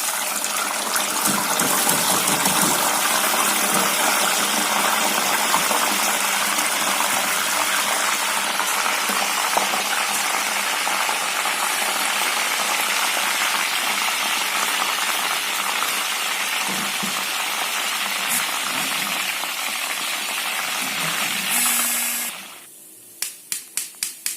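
Mung dal frying in hot oil for protein nimko, a loud continuous sizzling hiss that holds steady for most of the time before cutting off abruptly, followed by a few light clicks.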